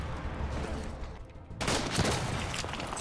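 A rapid volley of gunfire from the war film 1917 bursts out, loud and close, sharp cracks crowding together in quick succession after a short rumbling lead-in.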